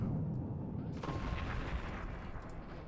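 Howitzer artillery firing in the video game Forts: a low, rumbling boom rolls out over steady battlefield noise, fairly quiet and alone, with no talk.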